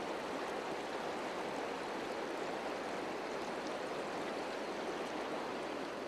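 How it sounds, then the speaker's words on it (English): River water rushes steadily through a mountain landscape during fishing, a continuous, fairly loud broadband flow with no pauses and no voices. "The sound, the movement of the water"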